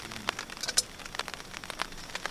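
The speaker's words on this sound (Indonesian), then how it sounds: "Ini gerimis loh, baru naik loh." Light drizzle at a mountain campsite patters in soft, scattered drops tapping on a nearby surface, irregular and quiet with no one speaking.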